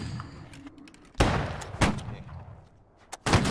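Cannon fire in a battle video game, heard as a few sharp booming blasts with rumbling decay, spaced irregularly over steady background game noise, the loudest hits landing close and heavy.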